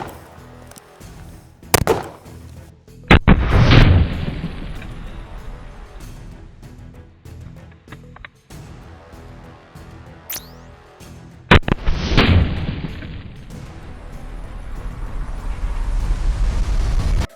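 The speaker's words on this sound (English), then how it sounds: "Okay, we have a 44 Magnum right here. This is a Korth revolver" Korth .44 Magnum revolver fired at a military helmet: two sharp, loud, close shots several seconds apart, each with a booming tail echoing outdoors, with quiet handling noise between.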